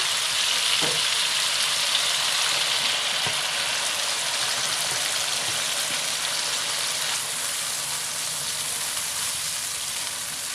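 Boiled lobia beans frying in spiced masala give a dense, even sizzle close by, steady and fairly loud for the whole stretch, with a few soft spoon knocks near the start.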